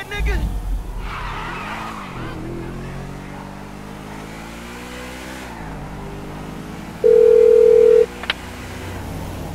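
A phone call rings out on speakerphone inside a car in Grand Theft Auto V: a steady electronic tone sounds for about a second over engine hum and road noise, while voices talk throughout.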